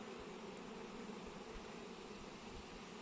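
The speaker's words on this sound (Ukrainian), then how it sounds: "дивлюся, рій летить" Honeybee swarm arriving at a hive box in summer heat; a faint, continuous, even buzzing drone of many bees heard from some distance, with no voices.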